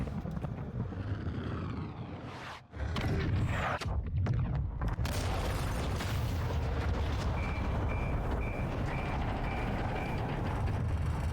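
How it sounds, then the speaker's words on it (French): A deep, rumbling missile blast in Call of Duty: Modern Warfare II with a long roaring aftermath, heavy low-end booming and distant mechanical drone continuing for several seconds. "À toutes les unités, préparez-vous pour l'explosion"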